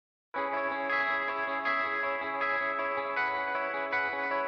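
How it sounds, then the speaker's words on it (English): Sustained, chorus-tinged electric guitar chords ring out steadily and loudly, with a wide, layered sound and no voices. "And on its own, those guitars now sound like this."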